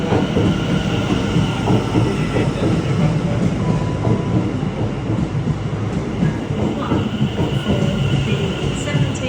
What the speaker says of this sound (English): And this is our train to Feltham.